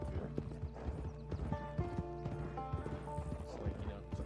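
Horse hooves clip-clop steadily in Red Dead Online, a quick even gait with an occasional whinny, over background game music and a talking voice.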